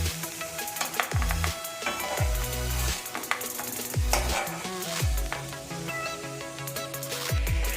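Onions sizzle and fry in leftover prawn-frying oil in a home kitchen pan, a steady loud crackle with a few heavier bursts as they are stirred, no voices.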